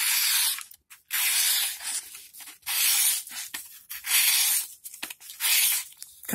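A Sanrenmu 4077 slip-joint knife slicing through regular printer paper, making a series of close, bright, hissy cutting strokes in a steady rhythm, roughly five or six passes with short pauses between them.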